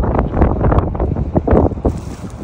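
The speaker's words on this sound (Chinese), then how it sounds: "海边风好大，你们听听这个风声" Strong wind buffets the microphone at a chilly autumn seaside in Denmark, a loud continuous roar with gusty low rumbling and no voices.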